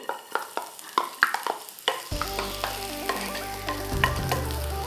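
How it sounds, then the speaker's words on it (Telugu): Thinly chopped garlic drops into hot oil for garlic chicken: a few sharp taps and clinks at first, then a sudden loud, steady sizzle that swells as the garlic fries, close up with no talking. "ఆయిల్ వేడయ్యాక ఇది మనం చేస్తుంది గార్లిక్ చికెన్ కాబట్టి కొంచెం గార్లిక్ ఎక్కువగానే వేసుకోవాలి."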